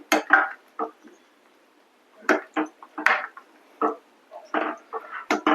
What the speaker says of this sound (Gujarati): હવે ગેસ બંધ કરી અને આને સારી રીતે મિક્સ કરી લેશું